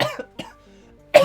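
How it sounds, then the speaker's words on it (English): A single person coughs a few times, close and fairly loud, short rough bursts separated by brief pauses, ending with one sharper cough. "Oh, my cough is back."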